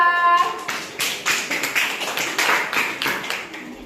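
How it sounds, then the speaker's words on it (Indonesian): Classroom audience clapping for a student group after their presentation, a small group applauding in quick irregular claps close by, with a brief voice at the start and clapping sustained throughout. "Kasih tepuk tangan untuk kelompok 2."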